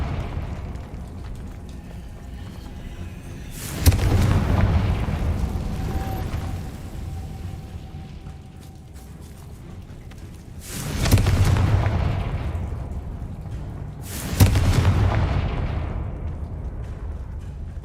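Spell explosions in the Hogwarts Legacy video game: three heavy, booming blasts spaced several seconds apart, each with a sharp onset and a rumbling decay, loud over a low background hum.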